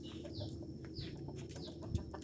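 A red chicken, sold by size, clucks faintly in a pen, with soft repeated calls and higher chirps over a low, steady background rumble.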